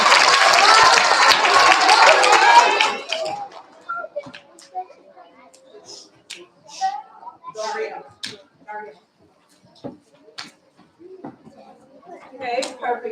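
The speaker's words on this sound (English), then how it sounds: "let's give them a round of applause" Dense applause from an audience of children and families at a kindergarten and first grade awards assembly, loud and sustained for about three seconds before thinning into scattered claps, rustling and children's chatter.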